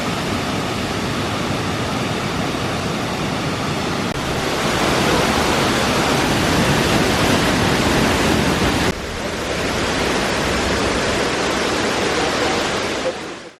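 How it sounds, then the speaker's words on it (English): The Mock Fa waterfall in the Thai jungle roars as a loud, dense, continuous rush of falling water, heard up close with no talk over it. "It's the Mock Fa waterfall."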